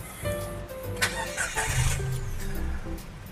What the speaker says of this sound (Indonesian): Suara deru mesin 3 silinder ya.